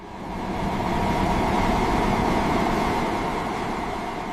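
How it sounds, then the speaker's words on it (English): Train entering the Channel Tunnel on the French side, a steady broadband rumble of rolling stock that swells in and holds level and close throughout, with no voices. "The train enters the Channel Tunnel on the French side."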